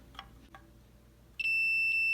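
Two faint clicks of probes touching moped wiring precede a sudden loud, steady high-pitched continuity beep from a multimeter that sounds and holds through to the end.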